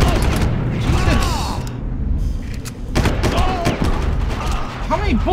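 Bursts of gunfire in the video game Far Cry, rapid shots and mechanical clatter over a busy game soundtrack, with someone talking in between.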